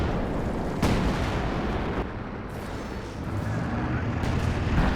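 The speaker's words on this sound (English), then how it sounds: "That was a major artillery barrage." A heavy artillery barrage pounds in a Company of Heroes 2 3v3 battle, dense rumbling blasts overlapping into a continuous loud roar with sharper impacts punching through early on.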